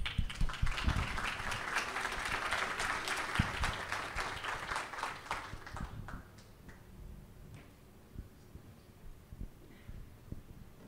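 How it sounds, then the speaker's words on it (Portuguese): Audience applause at a book launch in a Curitiba club hall, a dense burst of many hands clapping that is loud at first and then fades over the last few seconds. "Uma salva de palmas."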